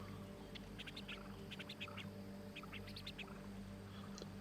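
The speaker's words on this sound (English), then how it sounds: "Sounds like the bird is on the boat." In the video game Amerzone, a bird calls near a boat with a run of faint, quacking chirps in short clusters over a quiet steady ambient hum.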